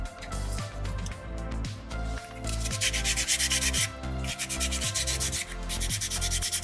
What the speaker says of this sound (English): I'm just going to refold this in different spots to kind of bring out some fresh sandpaper.